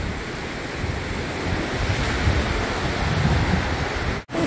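Sea waves washing in on a Spanish shore, a steady loud surf wash with wind buffeting the microphone and a brief dropout near the end.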